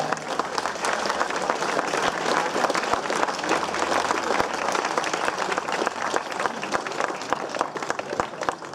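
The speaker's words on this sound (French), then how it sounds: "Applaudissements pour Mélodie Le Sueur." Steady, dense crowd applause at an outdoor award ceremony for a women's cycling time trial, with many hands clapping continuously and fairly evenly throughout.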